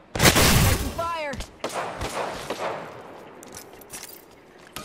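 Gunfire in the game Apex Legends: a loud close volley in the first second, then scattered sharper shots and impacts that fade into quieter battle noise, with a voice briefly present.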